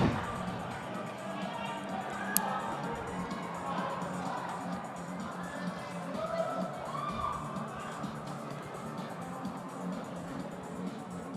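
A crowd at a bouldering championship cheering and murmuring steadily, with shouts and whoops rising over a continuous background of voices, moderately loud throughout.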